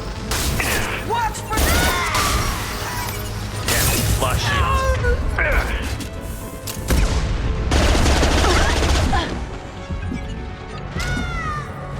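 SMG gunfire in Mass Effect 2 crackles in loud, dense bursts mixed with combat effects and chirping tones, near and busy, with voices talking over parts of the fight.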